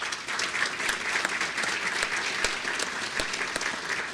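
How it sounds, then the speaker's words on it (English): Audience clapping at a city State of the City address, a dense steady wash of applause with a few sharper individual claps, sustained for several seconds. "Round of applause for them."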